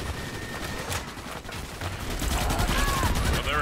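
Rapid gunfire in the video game Starship Troopers: Extermination rattles on continuously against a busy battle backdrop and grows slightly denser toward the end, with a voice faintly present in the mix.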